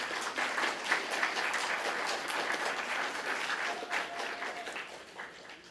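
A school audience at a junior high bands' spring concert claps steadily for the band director, Mr. Hartley, a dense, moderately loud round of applause that slowly fades toward the end.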